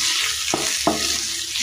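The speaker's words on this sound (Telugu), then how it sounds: "సాల్ట్ వేసుకున్నాక మొత్తం అంతా బాగా కలుపుకోవాలి" Ivy gourd (tondakaya) fry being stirred with salt in a pan, a steady close sizzle broken by a few soft spatula scrapes at an even pace, with no voices.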